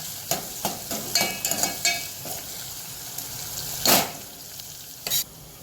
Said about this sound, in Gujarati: હવે ટામેટું એડ કરીશું। હવે આ બધું પાછું થોડું ચડવા દઈશું।